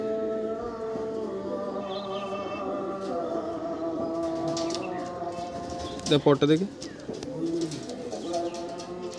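Madras pigeons in a loft coo softly in a few low repeated calls amid quiet background, while someone talks close by throughout.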